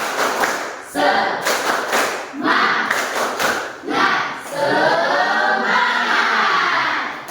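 A class of children claps in a rhythmic pattern while voices chant along together, loud and close, with short pauses between clapping phrases.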